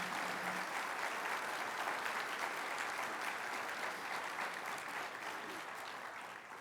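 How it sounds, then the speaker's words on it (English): A convention audience in a large hall applauds a couple seated at the back, a steady, dense round of clapping that holds for several seconds and tapers slightly at the end. "I'd like to have a nice round of applause for them right back there."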